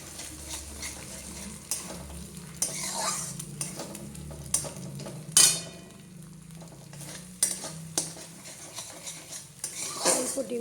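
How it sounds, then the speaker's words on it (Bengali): Two eggs fry in a little oil in a wok, a soft sizzle under clattering spatula and utensil scrapes, with a few sharp metallic knocks. "ফার্স্টে ভাজবো এই দুটো ডিম।"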